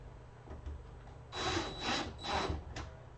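Three or four short, gritty bursts of screws being driven into wood on a homemade flight sim rig, each lasting about half a second, close and fairly loud over a quiet room.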